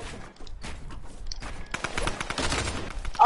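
Tommy gun fire in a shooter video game, a dense burst of rapid automatic shots that swells louder toward the end, with a steady background of other game noise.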